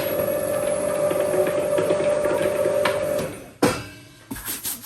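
A dough sheeter rolls wholemeal croissant dough down toward 4 millimetres, giving a steady loud motor hum with rolling mechanical texture that cuts off abruptly, followed by a sharp clunk and a few scattered bumps.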